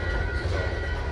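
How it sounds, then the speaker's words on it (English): A train passing on railroad tracks beside a camping spot, a loud, dense continuous rumble and rattle of rolling cars close by, steady for the whole moment. "this train's taking forever"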